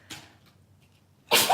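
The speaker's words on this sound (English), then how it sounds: "That was a big sneeze." A person indoors lets out one big sneeze, a sudden loud burst after a faint intake and near silence.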